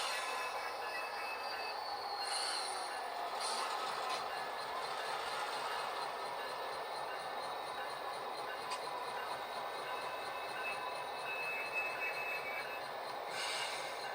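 DCC model train locomotives run on a layout, a quiet steady rolling hum with a few brief high squeals from the wheels.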